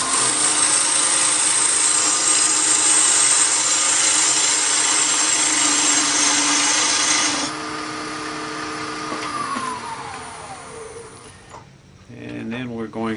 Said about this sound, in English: we're going to part this off about a quarter inch down